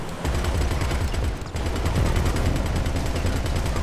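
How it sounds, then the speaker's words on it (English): Rapid, sustained automatic gunfire from the GTA 5 Online video game, a dense rattling barrage of shots firing continuously at close range with a brief dip midway, with no voices over it. "Clean off that wall with gunfire."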